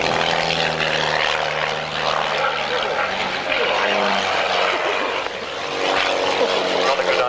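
Two propeller aircraft depart at the RAF Waddington Airshow after a synchronized loop, their droning engines steady and loud with a commentator talking over them.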